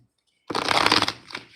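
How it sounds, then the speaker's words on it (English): A deck of tarot cards being shuffled close by, a sudden loud riffling burst of flicking cards lasting about half a second, then a softer trailing rustle, with no voices. "This deck here. Let me shuffle this."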